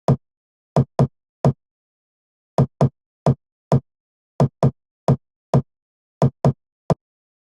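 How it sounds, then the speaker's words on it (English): Someone knocks on a door in short, dry, isolated raps, grouped in twos and threes with silence between the groups, close and clean with nothing else audible. "So it's just someone knocking on a door."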